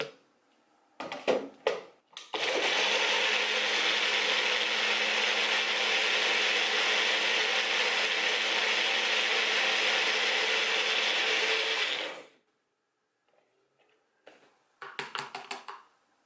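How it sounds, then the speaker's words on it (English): A Magic Bullet blender purees ice and banana in one long, steady, loud motor whir of about ten seconds, framed by short clattering knocks and rattles of the cup before and after. "There is 1 little chunk of ice, so I'm going to puree this for a little bit longer."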